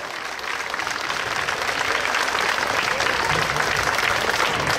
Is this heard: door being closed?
no